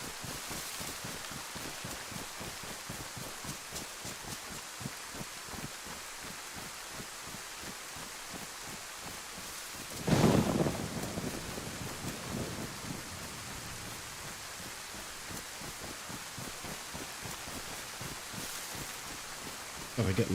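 Steady rain hisses throughout a DayZ game scene, with a louder rumble of thunder swelling midway and fading back into the constant downpour.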